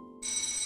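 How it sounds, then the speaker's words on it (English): A telephone ringtone chiming, short and bright, starting abruptly after a brief tone and ringing alone. "The phone keeps ringing."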